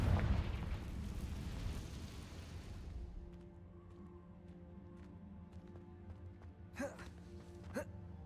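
Confringo fire spell explosion in Hogwarts Legacy. A loud rumbling blast that fades over about three seconds, followed by quieter scattered game sounds and brief bursts.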